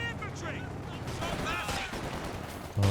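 Gunfire from a Company of Heroes 2 2v2 match as an infantry unit gets wiped out: dense, continuous battle noise with bursts of shots and explosions, steady throughout with a louder hit at the end, under game voice lines and chatter.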